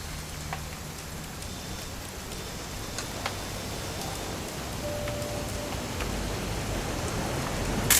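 Rain falling in the video game What Remains of Edith Finch, a steady soft hiss of rain with scattered faint ticks of drops, continuous and even, with a slight swell near the end.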